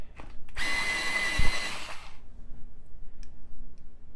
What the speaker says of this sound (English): So I'm going to sharpen them real quick.